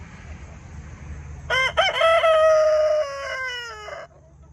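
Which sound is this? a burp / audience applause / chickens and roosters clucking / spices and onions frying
chickens and roosters clucking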